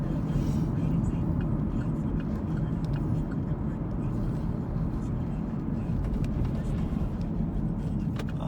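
Steady, close road and engine rumble from inside a car driving through the Chattanooga streets of North Chattanooga and the Northshore, continuous and even throughout with no clear passing events.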